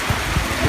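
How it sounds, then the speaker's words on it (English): Heavy monsoon rain pours in a dense, loud hiss, with a few low rumbling thuds underneath, steady and close with no voices. "And all of a sudden, the monsoon rain started again."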